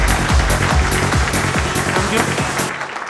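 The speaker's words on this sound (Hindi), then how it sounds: "जोरदार तालियां सर के लिए" Loud, dense audience applause for a speaker at a motivational business meeting, with sharp claps and cheering filling the whole stretch before it thins slightly at the end.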